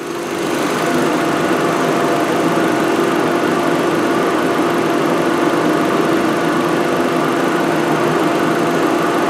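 A car engine runs steadily at idle on a liter of fuel while its injectors are cleaned in place, with the fuel line disconnected; a constant, loud, even drone continues without a break.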